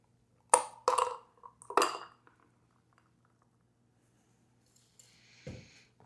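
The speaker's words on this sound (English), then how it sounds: "take all the ingredients, including the ice itself, and dump everything directly into your serving glass" A spiced rum daiquiri and its ice are dumped from a shaker tin into a serving glass, giving a few sharp clattering clinks close up, then quiet and a faint fizzy rattle.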